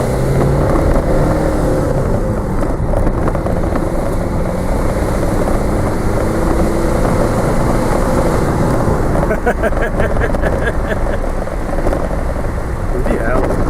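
A 2006 Ford Fusion with a 1.4 diesel engine, freshly fitted with a cleaned EGR valve, drives on with a continuous heavy engine and road roar heard from inside the cabin, buffeted by wind noise.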